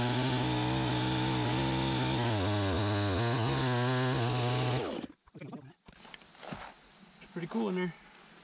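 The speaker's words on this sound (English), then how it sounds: "get the chainsaw fired up, get that extracted" A chainsaw roars loud and steady for about five seconds while cutting an apple burl for woodturning, then cuts out, leaving quieter shuffling and handling sounds.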